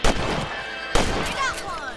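Rifle shots in Red Dead Redemption: two sharp loud cracks about a second apart, each trailing into rumble and game ambience, with a voice talking over the later part.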